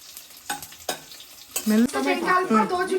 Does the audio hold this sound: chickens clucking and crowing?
no